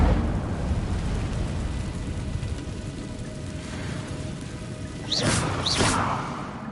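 Incendio fire spell bursting in Hogwarts Legacy, a steady crackling rush building into two bright, whooshing flares near the end, close and fairly loud with no talking.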